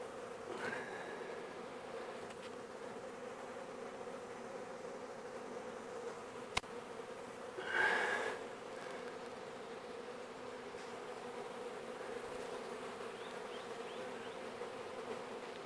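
A honey bee swarm buzzes steadily and softly throughout, a continuous low drone with one brief louder swell near the middle and no voices.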